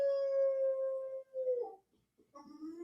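A female dog lying on a couch indoors howls in a long, sustained tone that bends and rises, pauses briefly, then starts another wavering howl, close and clear.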